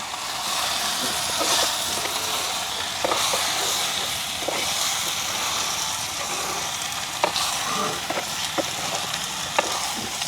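Small potato pieces and prawns fry together in a pan with a steady, loud sizzle and hiss, and a spoon scrapes and stirs through them with irregular clicks throughout, no voices.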